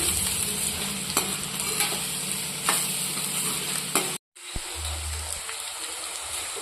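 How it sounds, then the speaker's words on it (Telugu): Carrot fries in a pan over a medium flame, giving a close, steady sizzle with scattered spatula scrapes and taps. The sound drops out briefly, then resumes with a low hum under it. "మీడియం ఫ్లేమ్ మీద ఫ్రై చేసుకుందాం మాడిపోకుండా ఇదైతే మాడిపోకుండా మధ్య మధ్యలో కలుపుకుందామండి క్యారెట్ తొందరగానే ఫ్రై అవుతుంది"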